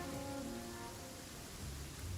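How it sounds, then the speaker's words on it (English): Steady rain pours in the Genshin Impact video game, a dense continuous hiss with a faint low rumble like distant thunder, filling the whole moment with no voices. "It always rains when I go on an adventure."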